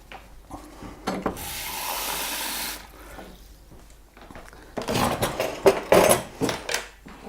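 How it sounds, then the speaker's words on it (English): Water is poured into a powdered milk mix, giving a steady hissing pour of about two seconds, followed by rubbing and clattering handling noises nearby. "is just pour in some water,"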